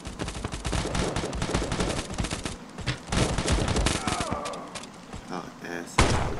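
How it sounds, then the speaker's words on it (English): Sniper rifle gunshots in the mobile shooter game Modern Ops, loud repeated sharp cracks mixed with dense rapid gunfire from the match, with one heavy blast near the end. "But I'm still gonna show y'all sniping on this game."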